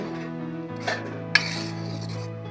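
A spoon scrapes and clinks against a kadai as flour for mohanthal roasts in it, with a low steady hum underneath and two sharp metallic scrapes about half a second apart.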